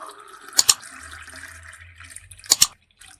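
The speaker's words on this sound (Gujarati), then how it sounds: "તેની અંદર આપણે છાશ ઉમેરીશું" Buttermilk poured into a glass while making spiced chaas, a low steady liquid trickle with two short bright clinks from the glass or utensil, one early and one near the end.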